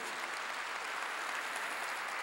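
A church congregation applauds at a Korean sermon, with steady, dense clapping from a crowd filling the whole moment.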